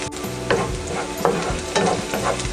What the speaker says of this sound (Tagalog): Hintayin lang po natin na medyo mag-golden brown po yung ating bawang.